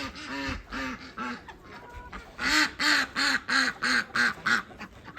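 Ducks on a farm quack in rapid repeated bursts, loud and close, with several birds calling over one another in a steady rhythm and no talk.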